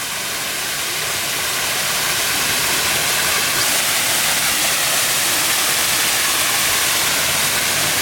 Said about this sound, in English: So this man-made spillway looks like this today